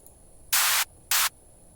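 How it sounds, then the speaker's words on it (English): Synthesized white noise from an Ableton operator patch, built toward a hi-hat, plays as two loud, hissing bursts, the first longer than the second, separated by near silence. "grab white noise again"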